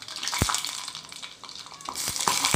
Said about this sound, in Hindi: इसमें राई डालेंगे,